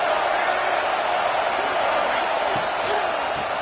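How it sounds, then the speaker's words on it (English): Dense, steady roar of a stadium crowd at a Michigan versus Michigan State college football game, a continuous wash of massed voices with brief swells and shouts rising out of it, loud and unbroken throughout. "This crowd trying to make life miserable for this offense."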